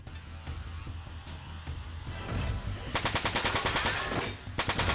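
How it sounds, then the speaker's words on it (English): Mech weapons fire in the video game Front Mission 4, a rapid rattling burst of repeated shots that starts partway in and stays loud against a low background rumble. "should probably still try to shoot this guy's arms off"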